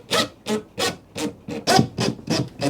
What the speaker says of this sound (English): You just need something to screw these screws to the floor